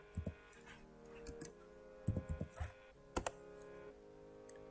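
Short, quiet clusters of computer keyboard keystrokes tap out a manufacturer part search for an Arduino Nano in Altium Designer, with pauses between the bursts.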